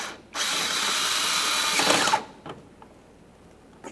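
A power tool drives a bolt on a 2017–2024 GMC Acadia during fog light bezel work. It buzzes loudly for about two seconds, stops abruptly, and a few faint clicks of handling follow.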